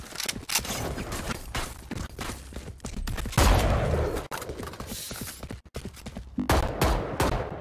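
Gunfire in a Valorant Spike Rush match: sharp rapid bursts of shots and clattering weapon mechanics, loud and close, arriving in clustered volleys separated by brief gaps.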